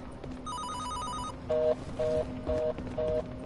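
A telephone rings with a warbling electronic trill, followed by four evenly spaced beeping rings, moderately loud over a low background hum with no voices.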